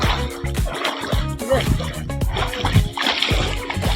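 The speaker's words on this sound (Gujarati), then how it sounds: "આવો વરસાદ છે" Heavy rain pours down and splashes onto standing water on farmland, a dense close sloshing wash with irregular splatters, while a voice talks over it.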